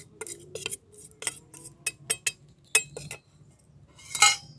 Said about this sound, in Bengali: এবারে চিনিটাকে দুধের সঙ্গে ভালো করে মিশিয়ে দেবো।